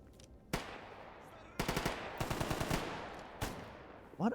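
Several bursts of rapid machine-gun fire crackle out: a lone shot, then longer rattling volleys and another single crack, loud and sharp against a quiet background.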